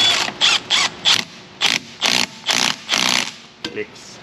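A ratchet tightens a bolt on the brake line of a Jeep Grand Cherokee 5.2 V8, giving about nine quick bursts of clicking in an uneven rhythm, loud and close.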